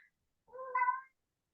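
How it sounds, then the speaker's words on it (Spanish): A cat lets out one clear meow close to the microphone, a rising, tonal call lasting about half a second, with near silence on either side. "disculpen por el gato"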